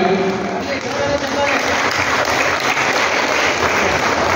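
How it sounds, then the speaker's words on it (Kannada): Loud, dense applause from a school audience at a welcome ceremony at a government girls' PU college in Chintamani, honouring a top-ranking PCMB student, sustained and even throughout. "ನಿಮ್ಮ ಚಪ್ಪಾಳೆ ಸಾಕಾಗ್ತಿಲ್ಲ"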